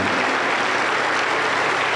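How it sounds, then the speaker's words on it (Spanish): A church congregation in Junín, Peru applauds during a Wednesday service, dense steady clapping that fills the room with no voices on top. "Aplauso para el Señor Jesús."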